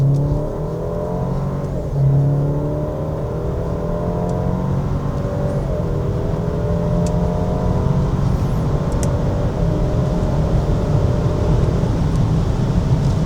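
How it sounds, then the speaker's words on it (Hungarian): An Alfa Romeo Giulia Competizione in dynamic mode accelerates hard, its engine rising through the revs in repeated climbing sweeps with gear changes, heard from inside the cabin as a steady, close drone. "Mutatok itt egy gyorsulást, átteszem dinamikba."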